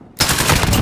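A modified assault weapon in a video game fires fully automatic: after a brief quiet start, a loud, sustained burst of rapid gunfire runs unbroken to the end.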